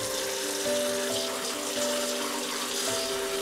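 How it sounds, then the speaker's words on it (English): Cold tap water runs steadily over drained, boiled sweet potato noodles in a kitchen sink, a constant close rushing splash with no pauses. "Drain them and rinse them with cold water."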